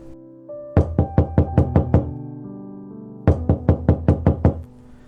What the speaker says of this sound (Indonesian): Fajar mengetuk pintu rumahnya